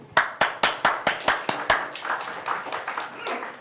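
A conference audience gives a round of applause, starting with about eight sharp, evenly spaced claps that blur into a softer, scattered patter as it dies away.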